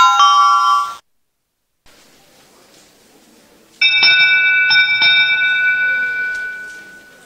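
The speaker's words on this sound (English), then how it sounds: "That sound means final spin." Wheel of Fortune final spin bell signal on a game show: bright ringing electronic dings, a short burst and then a sustained chime with repeated strikes that fade out, no one talking.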